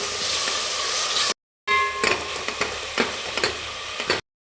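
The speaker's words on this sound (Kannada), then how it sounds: "ಚೆನ್ನಾಗಿ ಫ್ರೈ ಆಗಲಿ" A jaggery tempering fries in a pan, a bright crackling sizzle with sharp spoon-stirring clatters, interrupted by two abrupt silent gaps, with no voices.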